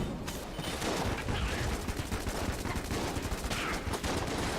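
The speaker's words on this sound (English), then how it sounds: "So I'll open up with the fossilized gun, use the heck blaster" Dense, continuous gunfire from the fossilized gun in the Enter the Gungeon video game, a steady loud barrage of rapid shots mixed with other game effects, no talking.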